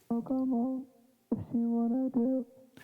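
A sung vocal phrase in two bursts, thinned to a boxy, hollow low-mid band so it sounds muffled and honky, with no other instruments.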